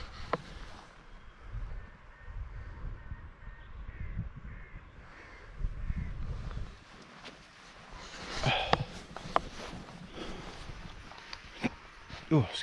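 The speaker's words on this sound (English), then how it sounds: "No, it's a raven." Ravens perched together in a tree give a few harsh croaking calls, faint and distant against quiet outdoor ambience, with someone talking nearby.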